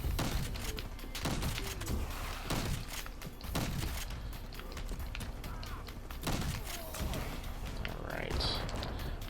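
Shotgun fire in the R.I.P.D. The Game video game comes as a series of sharp, loud blasts spaced about a second apart, mixed with other game noise and some talking.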